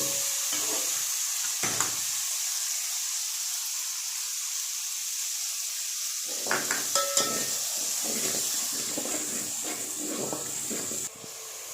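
A spice masala of turmeric, salt and red chilli fries in a pan for dhaba-style mash dal: a soft continuous hiss, quieter for a stretch, then broken by light stirring scrapes and taps on the pan.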